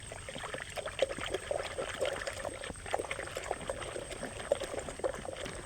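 A steady stream of a mixed liquid pours and trickles into water, a continuous splashing gurgle close by with small irregular spurts, no talking.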